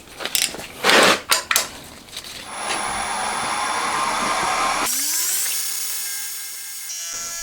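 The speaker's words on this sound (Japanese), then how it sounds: "では、フライス作業を始めていきます。" A milling machine cuts metal in a home workshop while a valve seat cutter is made for a four-cylinder engine built for a Honda Monkey. A few sharp knocks come first, then a steady close machining whir that changes tone partway through, with no talk.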